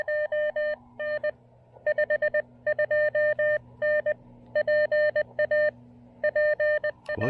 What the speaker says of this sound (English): Big signal, Brian.